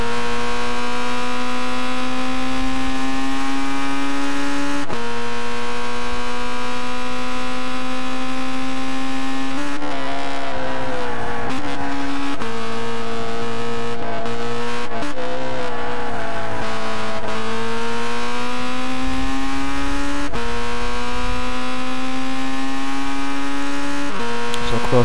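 A Red Bull X2014 race car in a simulated junior championship race, its engine droning loud and close with rising and falling revs through gear shifts and corners, a brief tire squeal partway through, no talking.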